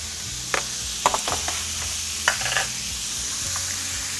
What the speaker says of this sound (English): I'll start with putting in your pork, your diced pork.